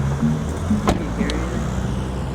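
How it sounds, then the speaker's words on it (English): Cars and a bus passing on a Cleveland residential street, a continuous low engine rumble and road noise heard from close by, with a sharp click and faint squeak partway through. "Wait for these two cars to pass. Well, this bus to pass."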